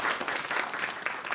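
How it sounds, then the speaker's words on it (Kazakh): An audience at a stand-up comedy show claps in a brief, dense burst of applause, moderately loud and close, with no talking over it. "шапалақ ұрып қояйық, күшті."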